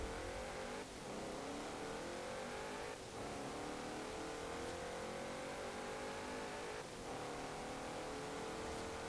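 A Porsche Cayenne in Forza Horizon 4 races along with a faint, steady engine roar whose pitch climbs through the gears, dropping back at three gear shifts, with no talking.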